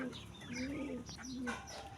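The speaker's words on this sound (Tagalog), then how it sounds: "Ngayon unahin muna natin yung kalapati." Pigeons coo nearby while waiting to be fed, low throaty rolling calls repeating in short bursts with some softer chirps and background noise.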